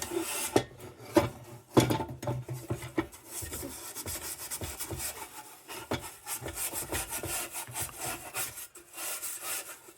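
Light rubbing on a part of a vintage Dietz No. 2 Blizzard lantern during restoration, a steady scratchy rasping that varies in texture, close and fairly quiet, with no talking.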